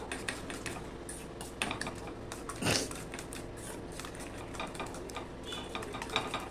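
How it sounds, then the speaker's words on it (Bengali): A fork whisks egg batter in a bowl, making rapid light clicks and taps against the sides in a steady, busy rhythm at close range. "কাঁটা চামচের সাহায্যে আমি ভালো করে ফেটিয়ে নেব।"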